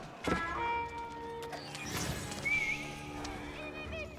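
Horsemen units in a real-time strategy video game produce whinnies, clip-clopping hooves and game sound effects, layered over constant background game noise and a steady drone.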